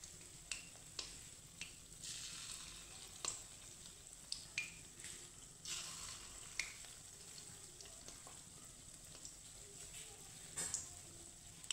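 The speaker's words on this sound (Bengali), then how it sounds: "হালকা ভাজা হলে আমি উল্টে দেব" Mung dal fritters fry in oil, giving a faint, continuous sizzle broken by sharp little pops and spits at irregular intervals.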